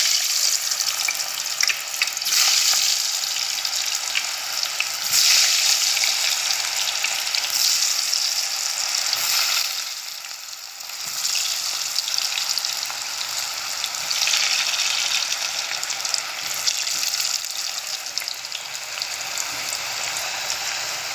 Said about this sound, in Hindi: तो जनाब हमारा घी अभी अच्छे तरीके से गर्म हो चुका है। तो हम इसमें अभी चिप्स डालते हैं।